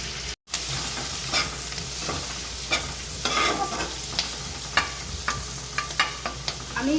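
Diced onions sizzle in butter over a low flame for a spicy Chinese-style chicken fry, a steady frying hiss broken by the intermittent scrapes and clicks of stirring.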